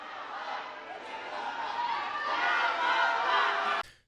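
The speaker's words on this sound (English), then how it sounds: "the crowd, starts chanting her name to drown them out" Rally crowd in Detroit chanting a name to drown out hecklers, a dense sustained roar of many voices that swells steadily louder before cutting off abruptly near the end.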